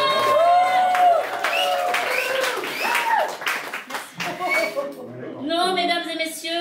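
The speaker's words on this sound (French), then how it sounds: "Normalement, on applaudit, c'est bien fait." A small evening cabaret crowd claps and chuckles over a host speaking on stage, with scattered applause and laughter weaving under the talk and a fuller burst of clapping near the end.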